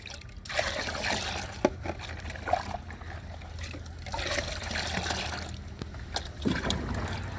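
Water sloshing and trickling as two plant-care liquids are stirred into water, with a few soft knocks against a container throughout.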